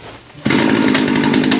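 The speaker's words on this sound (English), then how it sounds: "Chainsaw's defective." A chainsaw roars to life and cuts into a Christmas tree, its loud, steady buzzing engine starting abruptly after a quiet moment and running continuously close by.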